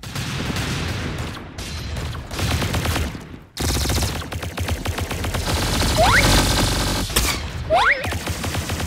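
Rapid bursts of gunfire from a shooter video game, loud and dense fusillades with a short gap near three and a half seconds, plus occasional whooshing effects, with no talk.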